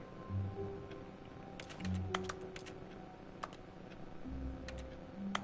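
Sparse, crisp keyboard key clicks from the video game The Stanley Parable, heard on pressing exit, tap in small clusters over a low droning background, with faint tonal hums beneath.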